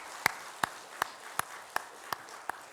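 A church congregation at a worship service claps in a slow, even rhythm, seven crisp hand claps in a row, faint and fairly distant.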